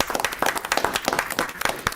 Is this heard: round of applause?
yes